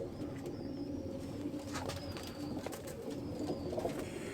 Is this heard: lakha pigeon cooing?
yes